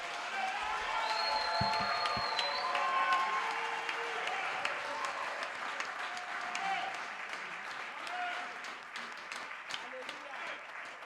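A church congregation standing to applaud and cheer for the Lord, a dense wash of clapping with scattered voices and whoops running steadily throughout, loud and close, with some talking mixed in.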